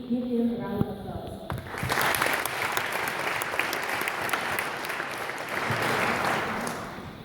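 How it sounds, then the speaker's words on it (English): An audience at a model UN opening ceremony breaks into sustained applause after a brief spoken bit at the start, with the clapping steady and fairly close for several seconds. "so please give him a round of applause"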